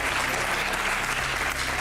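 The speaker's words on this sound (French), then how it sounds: "un applaudissement pour Stéphane Martin pour toutes les négociations menées pour arriver à parler au président" A crowd applauds Stéphane Martin, a brief, dense and even burst of clapping heard from within the audience.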